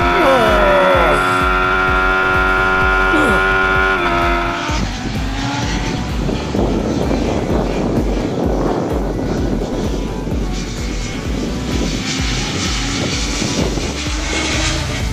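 A BMW S1000XR motorcycle engine revs hard and accelerates, loud and close, its rising whine giving way after a few seconds to a steady roaring rush of engine and wind.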